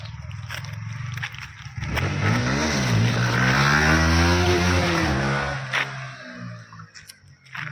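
A motorcycle doing a wheelie: the engine idles and putters, then revs hard into a loud, rising and falling tonal whine that holds for a few seconds before dropping back to a rough idle nearby.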